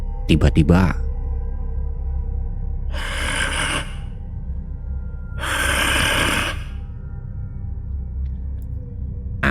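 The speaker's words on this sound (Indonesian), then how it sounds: "Itu suara nafas berat." Heavy, drawn-out breaths sound as an eerie effect: two long, loud rasping breaths, the second stronger, under a low ambient drone, with a few words spoken at the start.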